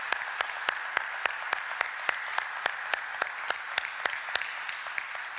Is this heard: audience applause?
yes